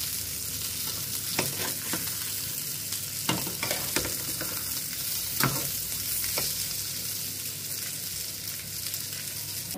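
Salmon frying in a pan is stirred gently, a continuous close sizzle broken by several scraping, clattering utensil strokes.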